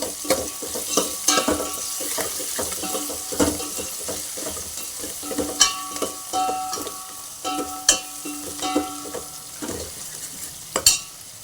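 Ingredients for Telugu pappu charu fry in a pan, a steady soft sizzle broken by repeated scraping and tapping of a spoon stirring, close by with no talking.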